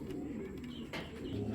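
Racing pigeons coo softly and close by in a steady low murmur, with a brief higher chirp partway through and no talking.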